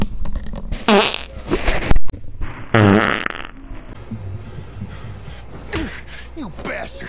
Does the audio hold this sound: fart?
yes